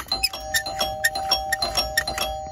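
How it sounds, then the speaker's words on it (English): A doorbell chimes over and over in quick, uneven succession, bright ringing tones layered together, close and fairly loud with no talking. "I'm gonna ring the doorbell like 5 times."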